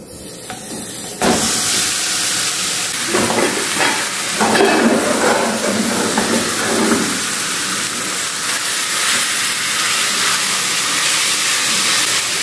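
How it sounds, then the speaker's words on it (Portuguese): Ground beef sautéing in olive oil in a pan, a loud, steady hiss and sizzle that jumps up after a short quieter start and continues, with slight variations, close by and with no talk. "Aí vou colocar um pouquinho de azeite aqui pra refogar a carne, né?"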